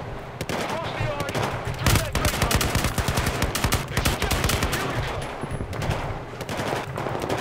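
Rapid automatic gunfire in the video game Battlefield 4, dense loud bursts of shots running almost continuously, with a voice speaking briefly over the firing.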